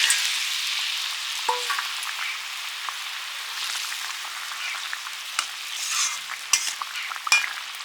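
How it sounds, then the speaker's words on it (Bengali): Small phasa fish added to a boiling, spicy Bengali curry gravy with green chillies, giving a steady close sizzling hiss with scattered pops and bubbling crackles throughout. "ঝোল ফুটে গেছে মাছটা দিয়ে দিচ্ছি"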